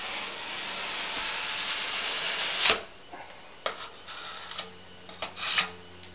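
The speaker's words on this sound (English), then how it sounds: "And we just run the knife across." A drywall knife drawn across joint compound before taping: a long, steady broadband scrape for a few seconds, then a sharp tap and several shorter strokes and knocks, close up with no talk.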